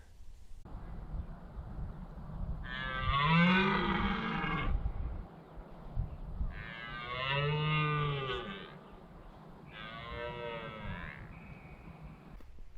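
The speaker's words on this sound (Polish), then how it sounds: "Słychać byki z daleka." Three long, drawn-out bellowing roars of red deer stags, spaced several seconds apart, distant and moderately faint over quiet outdoor background.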